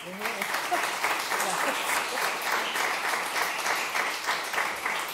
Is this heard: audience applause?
yes